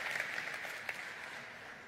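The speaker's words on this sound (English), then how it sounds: "Let's have applause for them." An audience at a Realme GT 7 series launch event claps and applauds, a brief faint spatter of hands heard at a distance with no talking.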